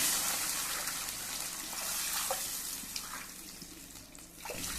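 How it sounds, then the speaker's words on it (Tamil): Steady rush of water poured into a cooking pot of rice, continuous and fairly close with no voices. "ஒரு டம்பர் அரிசிக்கு மூணு டம்பர் தண்ணி ஊற்றிக்கிட்டேன்"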